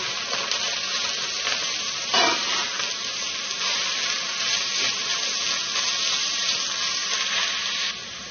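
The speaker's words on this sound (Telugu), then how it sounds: "ఇప్పుడు దీనిలో క్యారెట్ తురుము వేసేసుకుందాం ఈ క్యారెట్ తురుము కూడా చక్కగా వేగాలి" Grated carrot frying in a pan with ginger and garlic for fried rice, giving a steady, close sizzle with a brief louder burst of hiss as it is stirred, no voices.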